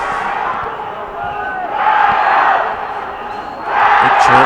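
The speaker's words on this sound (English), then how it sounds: "Big chant goes up, and any minute now a Mexican wave might break out." A large, vocal Chinese crowd at a men's cup final between China and Japan cheers and chants in loud, sustained swells, the noise building twice to fuller roars.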